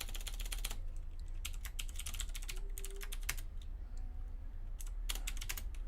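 Typing on a computer keyboard, quick bursts of close key clicks with pauses between them, over a low hum.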